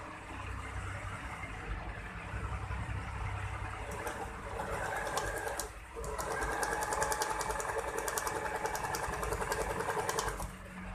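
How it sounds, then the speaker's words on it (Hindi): A Usha Janome Allure automatic sewing machine stitches in a steady, fast mechanical whir. Its pace lifts briefly midway, and the sound continues close and uninterrupted. "अभी हम ए पे करेंगे ओनली फॉर सिलाई"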